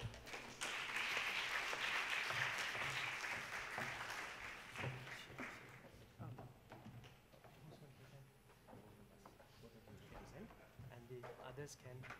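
Applause from an audience at a university youth forum closing ceremony as a group comes onto the stage, a broad wash of clapping that fades gradually, with talk continuing underneath.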